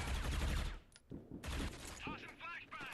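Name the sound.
fireworks going off outside the building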